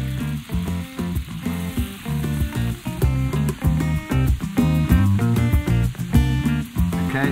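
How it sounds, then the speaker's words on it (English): Two thick slabs of yellowfin tuna sizzling in a hot pan, a loud, steady crackle and hiss close up, with no talking over it. "On goes the pan, on goes the heat. Two nice big slabs."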